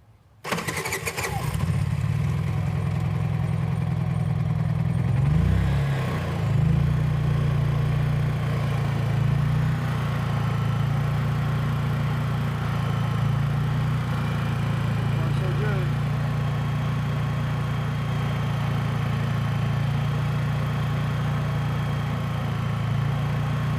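A small engine, choke fully out with fuel on and eco throttle off, starts after a surging repair: a brief start-up rattle, then a loud, steady idle that runs evenly to the end with no surging.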